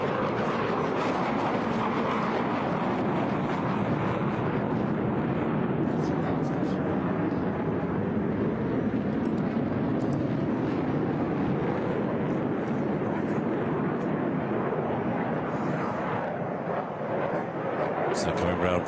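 An HAL Tejas fly-by-wire fighter jet roars steadily overhead at an air show in Bahrain, a loud, continuous engine rush lasting throughout, with a commentator talking over it.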